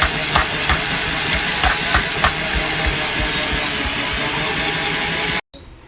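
A grinding mill works through seasoned dal for dhal puri, giving a loud, steady motorized whir with a hiss and a faint pulsing thump, then stopping suddenly near the end.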